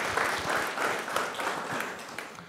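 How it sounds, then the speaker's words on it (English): Congregation members at a church meeting give a warm round of applause for the ministry board, continuous many-handed clapping with a rhythmic pulse, fairly soft and tapering slightly toward the end. "If you guys could just give them a big round of applause"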